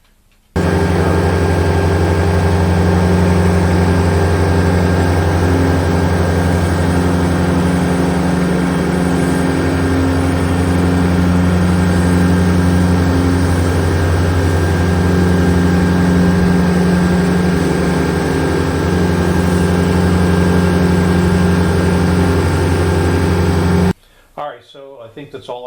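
A Yanmar SA424 tractor engine runs steadily and loudly while mowing near fence posts, a constant low drone with a strong harmonic hum that holds for most of the recording before cutting off near the end.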